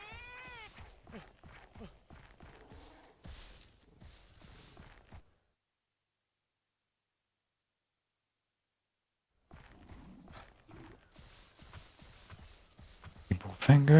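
Cats meowing in a video game, with a clear meow at the start over soft footstep-like tapping and game noises, then a long silent gap before more quiet activity and a louder burst at the end.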